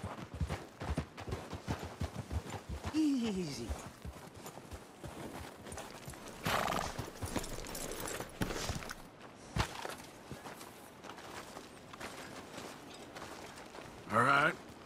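Horses walking in Red Dead Redemption 2, their hooves clopping in an uneven rhythm, with a person speaking briefly over them and a snort or neigh near the end.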